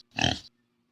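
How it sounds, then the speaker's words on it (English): A farm pig gives a single short, snorting grunt-oink, loud and close, over a quiet background. "P-I-G."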